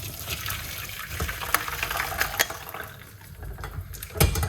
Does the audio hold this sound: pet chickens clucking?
no